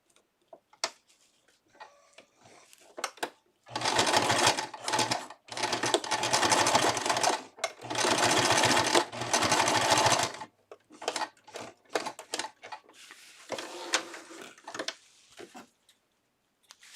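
Sewing machine stitching cloth diaper fabric in long steady runs at close range, a few short bursts before and after, with no talk over it.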